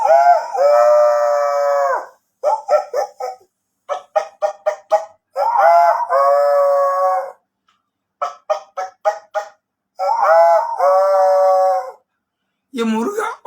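A voice imitates a rooster's crow and a hen's clucking, alternating long drawn-out crowing calls with quick bursts of short clucks, loud and close, ending on a rising squawk.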